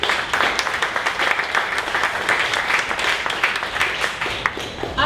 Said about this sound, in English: A round of applause for Muffin Else.